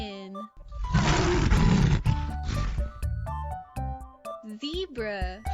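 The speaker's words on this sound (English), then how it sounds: "Lion." A lion's roar, a loud, broad rumbling burst lasting about two seconds, set among cheerful music in an animal-sounds lesson for children.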